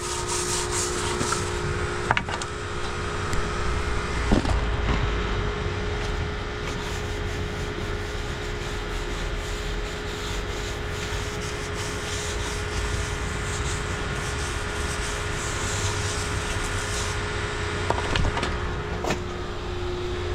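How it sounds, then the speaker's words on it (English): A stiff bristle brush scrubs hardened old concrete treated with concrete dissolver, giving a steady, close rasping sweep that runs continuously for the whole stretch with a few sharper knocks along the way and no talking. "then we'll hit it with a stiff bristle brush here"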